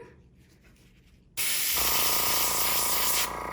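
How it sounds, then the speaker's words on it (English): After a quiet moment, an airbrush bursts into a loud, steady spray hiss that holds for about two seconds, then drops slightly in level. "shoot the rest of that product out. Spray it one last time"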